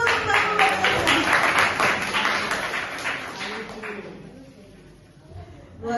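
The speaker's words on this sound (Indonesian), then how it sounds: "Tepuk tangan dulu." The audience at a business seminar breaks into loud applause that carries for about four seconds and then fades away, with a voice speaking faintly near the end.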